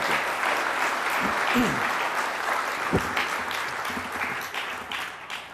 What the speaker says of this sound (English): And please do applaud yourself.